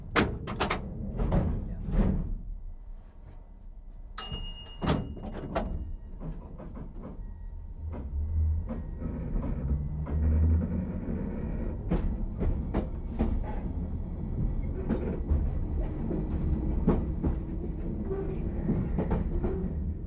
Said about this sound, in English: As we set off in our 1962 stock train